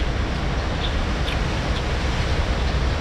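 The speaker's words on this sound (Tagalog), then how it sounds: "Medyo malakas-lakas ngayon ang hangin." Strong wind blows near the sea, producing a continuous broadband rush with a heavy low rumble buffeting the microphone, steady and loud throughout with no voices.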